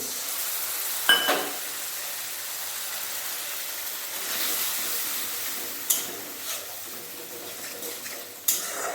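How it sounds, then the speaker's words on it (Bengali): Spiced paste for a Bengali pabda fish curry fries with added water, giving a faint, steady sizzle throughout with a few sharp clinks of a utensil against the pan. "জল দিয়ে মশলা ভালোভাবে ভেজে নেব"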